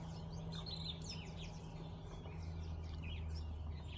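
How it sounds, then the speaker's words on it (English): Birds singing in the trees, faint repeated chirps and tweets over a low steady rumble of distant traffic, with no voices. "listening to the birds in the trees"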